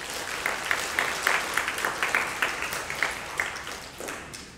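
Applause from the audience at an elementary school awards day, a moderately loud patter of individual claps from a modest crowd that gradually thins and fades toward the end.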